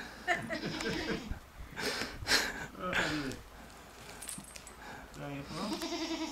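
A goat bleats several times in wavering, nasal cries up close, mixed with a person speaking between the calls.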